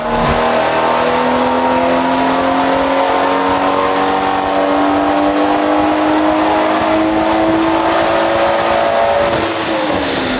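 A B58-swapped BMW E46 Touring with its turbocharged engine revving hard under boost, giving a loud, sustained engine note that climbs steadily before dropping off near the end.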